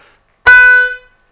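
A single sharp harmonica note stabbed on the 4 draw, a bright reedy tone with strong harmonics that starts abruptly, holds for about half a second and cuts off cleanly, played alone.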